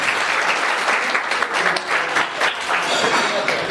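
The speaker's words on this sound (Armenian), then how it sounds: "պիտի խնդրեմ բոլորս միասին այդ բարձր և բոլոր ծափարությունները ողջունենք նրանց" Audience in a hall applauding grandparents at a family celebration, a full steady round of clapping from many hands, close and lively throughout.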